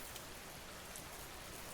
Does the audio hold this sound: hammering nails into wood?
no